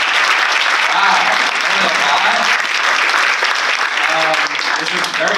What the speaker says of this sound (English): a huge round of applause for our panel, Jen, Jack, and Danielle.